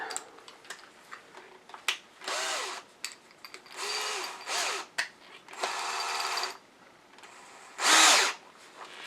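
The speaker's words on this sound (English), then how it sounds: "now let's switch to a little bit larger drill bit" Woodturning work with a larger drill bit boring into scrap wood produces several intermittent whirring bursts of varying length, separated by brief pauses and light ticking.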